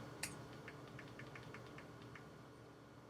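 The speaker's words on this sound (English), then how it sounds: "I'm going to speed this up with my own keyboard" Quick, evenly spaced keystrokes tap out numbers on a computer keyboard, about eight light clicks in a row after one sharper click, faint against a low background hum.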